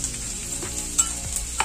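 Onion, ginger and garlic sauté in a pan with a bright, continuous sizzle, broken by a few scraping stirs of a spoon.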